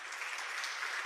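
A church congregation applauds, producing a steady, dense wash of clapping that stays even and fairly loud for about a second with no speech over it.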